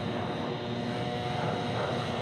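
An American airliner heads down runway 36 right at DFW with a continuous engine roar. The sound holds steady and fairly loud over a short stretch.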